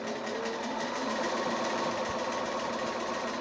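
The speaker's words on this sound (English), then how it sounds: "I'm going to go to the sewing machine and just stitch across there to hold all that" A sewing machine runs a straight stitch through layered quilting fabric, anchoring appliqué near the edge, in a steady continuous close hum throughout.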